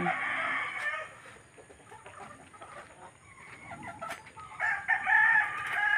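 Chickens cluck continuously while a rooster crows, loudest at the start and again near the end, with a steady farmyard chatter in between.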